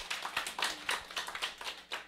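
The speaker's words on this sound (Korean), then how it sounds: "박수 좀 쳐드리세요" An audience at a lecture on the steps to success claps in brief, rhythmic applause, a quick run of sharp handclaps lasting about two seconds.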